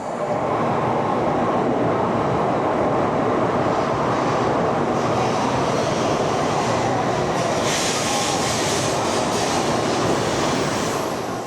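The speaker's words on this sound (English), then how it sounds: "We're taking the standard bullet train, which is going to be plenty fast enough." A standard Japanese bullet train rolls into a terminal station, a loud, steady rush of wheel and air noise that holds evenly throughout with no voices.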